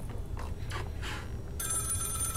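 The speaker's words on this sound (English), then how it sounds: "I'm following one of the fucking monsters and the phone's ringing." A telephone rings in the horror game Maid of Sker, a steady electronic ringing that starts partway through and continues loudly after quieter low ambient rumbles.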